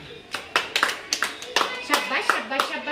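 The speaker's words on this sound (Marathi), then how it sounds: "त्यांना टाळ्या द्या बरं" Children in a classroom clap for the winners of a game, with a quick run of uneven, close handclaps and young voices mixed in.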